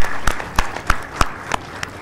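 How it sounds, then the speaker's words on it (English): Sparse applause for a professor after a distinguished lecture in Hyderabad: a handful of sharp, evenly spaced claps ring out about three times a second over a quiet room hum. "I think he deserves a round of applause"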